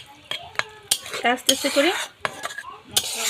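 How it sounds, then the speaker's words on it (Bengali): A spoon clatters and scrapes in a pot of simmering fish and eggplant curry in several short bursts, while someone speaks briefly between the clinks. "এখন আর একটু সময় আমি তরকারিটা ফুটিয়ে নেব"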